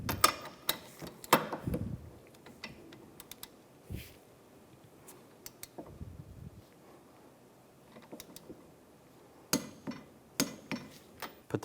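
A torque wrench tightens brake caliper bolts on a 2007-2013 Mini Cooper, with sharp, sparse clicks and metallic taps up close against a quiet workshop background.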